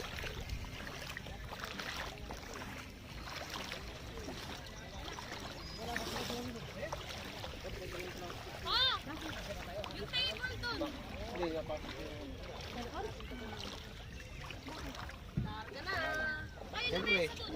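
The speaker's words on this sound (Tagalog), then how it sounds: "Pasakay kami ng bangka guys." Outrigger boat (bangka) being boarded at the shore in Laiya, Batangas, with water sloshing and splashing against the hull under steady chatter from people nearby.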